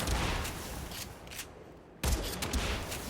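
Kuva Tonkor grenade launcher fire in a video game, a few sharp booming shots with rumbling tails, a short lull, then another burst of blasts at moderate level.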